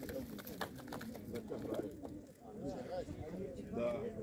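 Blagodarnensky pigeons at a market in Svetlograd give repeated soft cooing calls and rustling, mixed with voices of people talking nearby.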